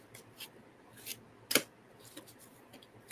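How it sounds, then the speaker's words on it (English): A deck of tarot cards being shuffled by hand, with soft papery riffles and rubs in a few short bursts, one sharper flurry midway, close and quiet, with no talking. "I'm going to shuffle it one more time."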